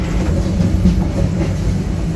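The Pangrango economy train on the Bogor–Sukabumi line gives a steady, loud, close rumble throughout, with no distinct clacks or horn.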